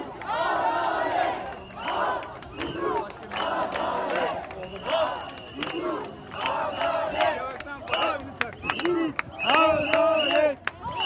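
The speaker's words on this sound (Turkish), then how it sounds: "onlar da alkışlayarak karşılık veriyorlar" Justice marchers on the road to Istanbul clap and cheer in rhythmic bursts in response to support from buildings, a loud crowd of chanting voices and applause close by.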